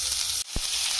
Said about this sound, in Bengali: তেলটা এখানে গরম হয়ে গেছে, এবার সব কিছু দিয়ে দেবো। হালকা করে একটু ভেজে নেবো।